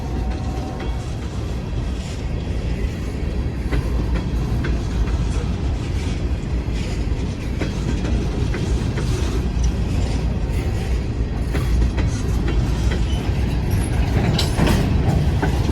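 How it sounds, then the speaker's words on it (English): An empty BNSF coal train rolls slowly past, a continuous rumble of wagons with scattered clanks, creaks and wheel clicks. It stays loud and steady with no voices. "there's an empty coal train right there"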